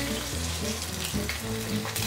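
Pieces of rohu fish fry in hot oil for an Assamese fish curry, giving a steady, dense sizzle with crackling spatter throughout and a low hum underneath.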